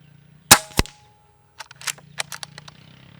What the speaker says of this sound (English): the flash still emits quite a bit of ping when the hammer smacks the valve